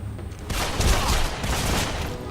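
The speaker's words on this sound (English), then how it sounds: "At least I start off with dual pistols." Dual pistols fire in the video game Deadfall Adventures as a rapid, loud burst of overlapping gunshots with booming low thumps, lasting about two seconds without speech.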